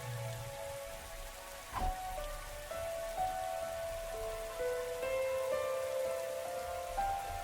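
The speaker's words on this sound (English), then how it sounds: "Raindrops are pelting the rooftop all around me, producing a relentless rhythmic beat." Heavy rain pelts a rooftop in the video game The Hundred Line: Last Defense Academy, a steady dense patter with a sustained musical drone and soft melodic notes over it, and one brief thump near the start.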